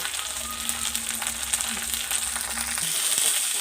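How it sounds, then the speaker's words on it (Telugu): Curry leaves and drumstick leaves frying in hot oil, a close, steady crackling sizzle that fills the clip, with faint stirring scrapes underneath. "ఇట్లా వేగాలి బాగా అమ్మ జర ఎర్రగా అయ్యేదాకా గోల్డ్ కలర్ వచ్చేదాకా వేయించుకోవాలి"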